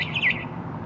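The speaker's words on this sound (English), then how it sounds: "Then I heard chirping outside my window." A single short barn swallow chirp from the video game What Remains of Edith Finch rings out near the start, bright and close, then fades against a low steady background hum.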